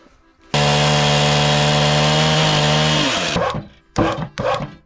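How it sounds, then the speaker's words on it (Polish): A chainsaw roars loudly and steadily through wood for about three seconds, then sputters and revs in short bursts as the engine bogs down. "Może piłą motorową?"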